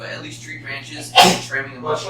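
A single sharp sneeze bursts out abruptly in the middle of ongoing conversation, louder than the surrounding voices.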